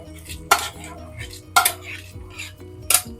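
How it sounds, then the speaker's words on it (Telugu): A spoon clanks against a metal pan three times as dry fruits go into rusk halwa, with quieter scraping and stirring in between. "ఇప్పుడు డ్రై ఫ్రూట్స్ కూడా వేసేసుకుందాం"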